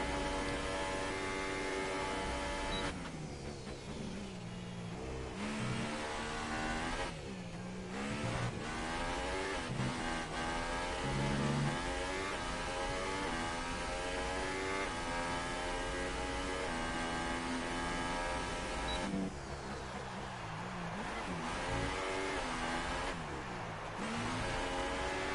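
A racing car engine in a racing video game holds a steady loud drone through a flying lap on soft tyres, with pitch sweeps at gear changes and braking and no talk.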